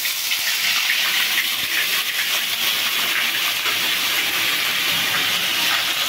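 Ginger paste and cumin hit hot oil after the tempering spices have fried, a steady, loud, broad sizzle and hiss that holds evenly throughout with no talk over it.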